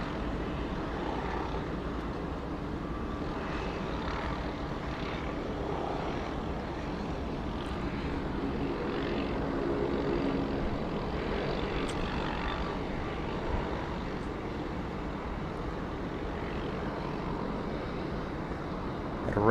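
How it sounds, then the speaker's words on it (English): A Rex Saab 340B turboprop airliner at Sydney Airport gives off a steady, moderately loud propeller and engine drone that holds through the whole stretch, with no talking. "Got a Rex Saab coming out to play. Saab 340 Bravo."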